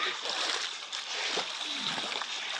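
Splashing and sloshing in a cool river, a steady wash of broadband water noise with voices talking over it close by.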